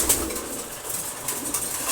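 Several pigeons murmur and coo while they feed nearby, a continuous soft burbling with an occasional brief flap of wings and no talking.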